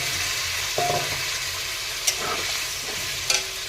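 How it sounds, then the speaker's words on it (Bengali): Potatoes and French beans in spices being stirred and fried in a pan, a steady close sizzle with a few sharp scraping clinks of the spatula against the pan. "এবার আলুর সাথে ভালো করে কষিয়ে নেব"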